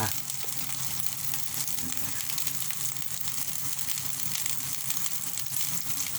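Spices, including cinnamon, are dry-roasted in a pan while the cook prepares salty simmered mackerel, giving a steady soft crackle and sizzle with occasional scraping of a utensil.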